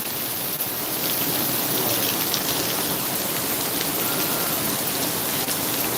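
Steady rain pours on a street in Laureles, Medellín, Colombia, a dense, even hiss of drops that stays loud and unbroken throughout, with no voices heard.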